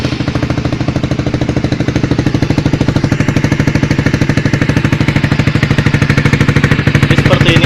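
A Honda Sonic 150 motorcycle fitted with a Pro Liner TR1 exhaust and its DB killer installed idles close by, a steady rapid, even exhaust putter throughout with no talk.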